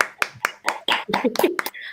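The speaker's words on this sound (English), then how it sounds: "So a big round of applause to you guys." A short, scattered round of hand claps at an international awards event, a handful of sharp, uneven claps close by with a voice talking through them.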